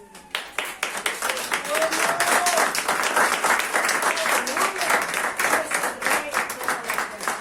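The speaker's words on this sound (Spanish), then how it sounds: "una ofrenda de palmas al Señor" A church congregation claps as an offering to the Lord, a dense burst of hand claps that builds quickly and holds loud and close, with voices calling out among the claps.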